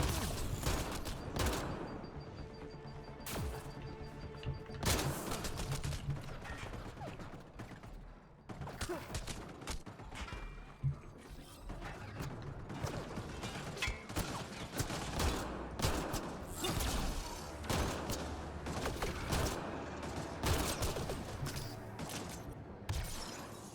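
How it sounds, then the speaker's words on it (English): Turret gunfire in the PC game Mass Effect Andromeda: rapid, sharp bursts of shots and booming impacts crackle almost continuously for over twenty seconds, with no talking. "Oh, it's a turret."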